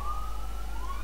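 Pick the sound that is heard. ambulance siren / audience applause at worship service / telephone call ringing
ambulance siren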